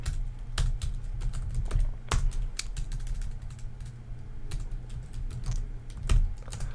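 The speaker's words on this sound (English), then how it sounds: "And then just type in your name here." Fast clicking keystrokes on a computer keyboard, irregular bursts of close taps with short pauses, moderately loud over a low background hum, no talking.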